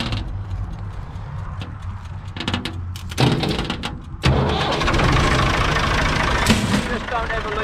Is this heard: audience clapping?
no